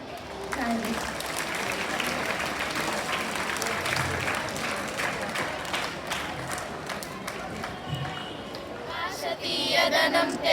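Audience clapping at a school language club youth parliament event, sustained dense applause with crowd murmur and voices mixed in, swelling louder near the end.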